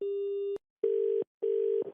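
A steady telephone tone sounds while a phone call is placed, a single held beep followed by two shorter repeated pulses with brief silent gaps, clean and close.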